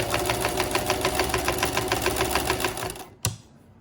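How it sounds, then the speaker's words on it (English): A domestic sewing machine runs a steady, rapid zigzag stitch over elastic on a homemade cloth face mask, rattling continuously at close range for about three seconds before stopping with a single sharp clunk, no voices present. "I'm gonna put it on a zigzag stitch because I kind of like to zigzag my elastic."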